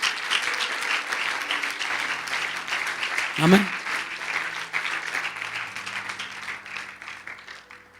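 A church congregation applauding during a Spanish-language sermon, sustained dense clapping across the whole stretch, loud and full, with a brief voice calling out in the middle before the applause slowly tapers.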